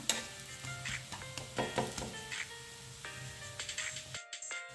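Methi thalipeeth, a fenugreek flatbread, sizzles steadily as it roasts in oil on a pan, with soft crackles and occasional light scraping from a spatula, close and continuous.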